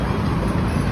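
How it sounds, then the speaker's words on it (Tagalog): Loud, dense rumble of an MRT train passing nearby, a continuous low-heavy roar filling the short stretch without pause or talk. "Ito na yung MRT dito."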